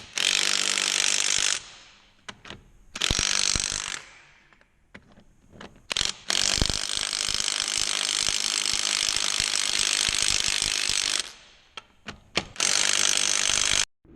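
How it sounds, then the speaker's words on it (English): A Craftsman impact wrench hammers wheel lug nuts tight in several loud, rattling bursts of varying length, separated by short pauses. "I'm going to take this Impact, this Craftsman, and go around and tighten these."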